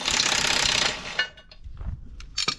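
The final drive of a JCB Loadall 530B telehandler makes a harsh, loud hammering clatter for about a second, followed by a few scattered knocks and bangs.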